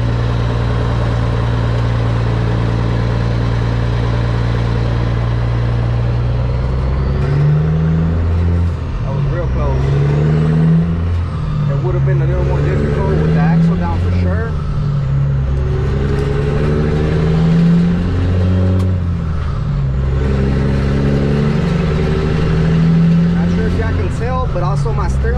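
Kenworth T800 truck driving, a loud steady engine drone with shifting low harmonics and rising revs from inside the cab, someone talking over it.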